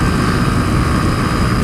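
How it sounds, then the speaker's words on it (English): A Honda CBF125 125cc motorcycle engine pulls hard at high revs on the road, a loud, dense, steady roar with no pauses. "Now that is the motor"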